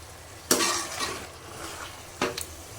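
Chicken dum biryani stirred and mixed in a pot, two distinct scraping clinks of a spoon against the metal with a soft sizzle in between, close and fairly quiet.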